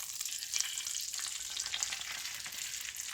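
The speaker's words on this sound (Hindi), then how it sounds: "और ये जब गर्म हो गया तो इसमें ये जो अंडों का मिक्सचर बनाया है ये इसमें डाल दूंगी" Egg mixture hitting hot melted butter and oil in a pan for an omelette curry, giving a steady close sizzle and crackle of frying throughout, with no talk.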